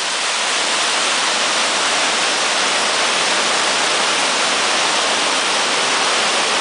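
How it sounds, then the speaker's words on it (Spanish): A waterfall on a river on a rural farm property roars as a loud, steady, broadband rush of falling water that continues unbroken and close, with no voices. "pero tiene la cascada."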